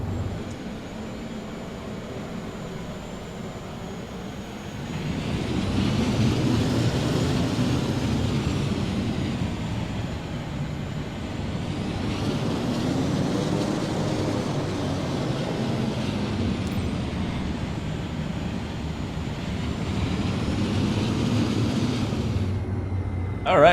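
Propeller crop-dusting airplane taxiing back along runway 25 in Microsoft Flight Simulator 2024, a steady engine drone with low rumble that swells at about five seconds and stays louder, rising and easing in broad waves with no voices.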